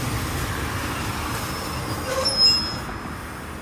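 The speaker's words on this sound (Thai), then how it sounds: "ตอนนี้ขบวนจอดที่ป้ายหยุดรถนะครับ พระราชวังสนามจันทร์นะครับ" Ordinary train 254 rolling to a stop at the Sanam Chan Palace halt in Nakhon Pathom, Thailand, with a steady rumble of the railcar and a brief high wheel squeal near the end.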